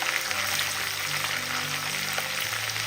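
Chopped green chilies sizzle in a pan as they are stirred and fried, a loud, dense, continuous crackle with faint tonal hum underneath and no talk.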